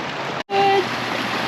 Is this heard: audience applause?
no